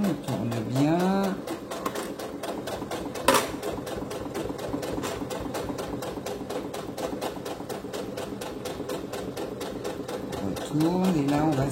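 A sewing machine runs steadily, stitching over the pocket of a fabric phone charger pouch, its rapid even needle clatter continuing while someone talks over it.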